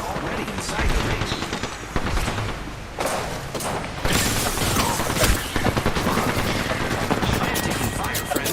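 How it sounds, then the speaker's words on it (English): Near-continuous gunfire rattles through a battle royale match, with dense overlapping automatic bursts and heavy thumps over a constant din, while a voice speaks intermittently. "I am taking fire"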